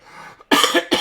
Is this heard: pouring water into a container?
no